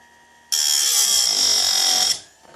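A chainsaw chain sharpener grinds one chain tooth in a loud, high whine lasting about one and a half seconds. It starts abruptly, cuts off sharply, and is followed by quiet.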